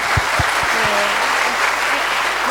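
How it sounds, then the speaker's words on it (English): Loud, dense audience applause in a hall at a patient-recognition event, steady clapping from many hands throughout, with a few deeper thumps at the start. "So can we give her and him applause?"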